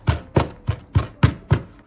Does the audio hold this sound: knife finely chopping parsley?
yes